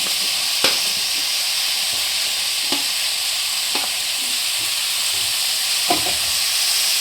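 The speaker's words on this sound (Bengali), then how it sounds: "বন্ধুরা দেখুন আলু আর কুমড়োটা একটু হালকাভাবে ভেজে নেবে, ডালের সাথে যাবে তো, খুব একটা লাল করে ভাজবে না।" Potatoes and pumpkin pieces fry in a pan for a dal, giving a steady close sizzle with a few sharp clicks and scrapes of stirring scattered through.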